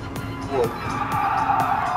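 Car tires skid and squeal in the racing game Gran Turismo Sport in a steady, sustained hiss, while someone talks loudly over it throughout.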